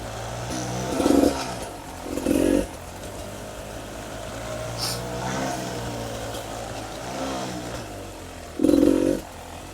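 A 300RR dirt bike engine running while being ridden off-road on IRC JX8 Gekkota tires, a steady loud drone with several short bursts of revving, recorded close from the rider.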